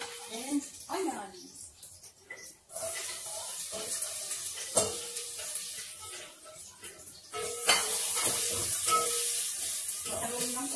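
Chopped onion sizzles in a hot pan of golden-brown aromatics for a home-cooked pinapaitan, a steady hiss with clinks of utensils and stirring, while people talk over it.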